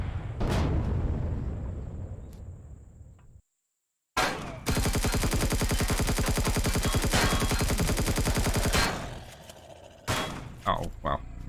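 Gunfire in Empyrion Galactic Survival: a sharp shot and decaying echo, a brief silence, then a long sustained burst of rapid automatic fire, followed by a few scattered shots with a voice speaking among them.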